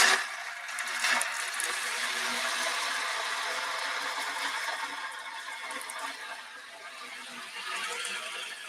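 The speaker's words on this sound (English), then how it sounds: "I use this drum to bring us ocean sounds" An ocean drum gives a soft, continuous rolling hiss of beads shifting back and forth, rising and falling like gentle surf washing in and out, fairly quiet and alone.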